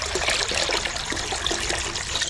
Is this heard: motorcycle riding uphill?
no